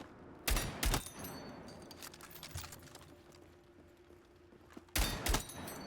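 Shotgun fire in the Battlefield 6 video game, two pairs of loud booming blasts, one pair near the start and one near the end, with quieter game clatter and thuds between.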